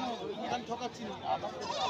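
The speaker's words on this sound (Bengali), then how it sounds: "বন্ধুরা দেখুন ব্ল্যাক বেঙ্গল ছাগল রয়েছে, তার সঙ্গে 2 সপ্তাহের বাচ্চা রয়েছে" Black Bengal goats with two-week-old kids bleat repeatedly at the Uluberia goat market, close and fairly loud, over a low murmur of chatter.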